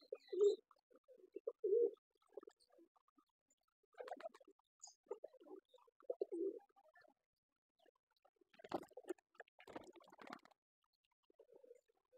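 Pigeons in a loft coo softly at close range in repeated low, throaty bursts separated by pauses, with some rustling and flapping later on.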